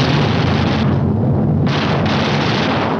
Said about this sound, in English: Each gunner flexes his sights and tries the coordinated fire controls with a few short bursts to clear the guns